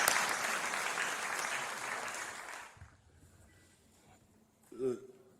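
A lecture audience at a conference on African development applauds loudly for a professor being welcomed, then the clapping stops abruptly and a speaking voice follows in a quieter room.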